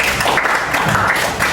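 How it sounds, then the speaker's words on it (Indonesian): Brief burst of dense applause from a class audience for a student group presentation, continuous hand clapping filling the short moment at steady loudness. "boleh tepuk tangan untuk kelompok 3"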